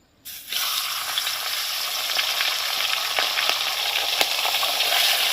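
Catla fish heads frying in hot oil, a steady loud sizzle that starts abruptly and holds for several seconds, with occasional sharp pops and crackles standing out.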